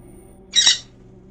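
A bird gives a single short squawk, a loud harsh call lasting about a quarter second against a quiet indoor background.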